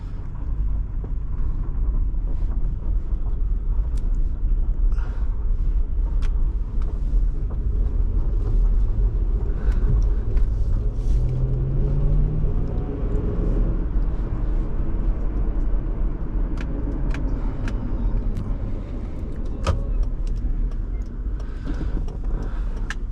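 2006 Lexus GX470 on the road, heard from inside the cabin as a steady low engine and road rumble with wind noise and occasional small rattles and clicks.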